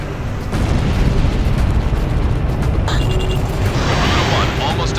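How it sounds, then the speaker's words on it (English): Missile launch and explosion from a fighter jet in Ace Combat 6: Fires of Liberation, a heavy rumbling boom that swells into a roaring blast, loud and dense, with radio chatter over it. "Garuda-1 launched missile."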